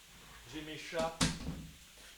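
A door pushed shut indoors: a short, sharp knock at the latch after a brief creak and swish, set against someone talking quietly.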